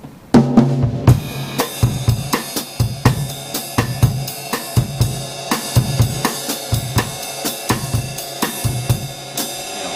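Drum kit playing a bossa nova groove in a small combo setting, steady and loud with regular kick and rim or snare accents under continuous cymbal shimmer, no voices.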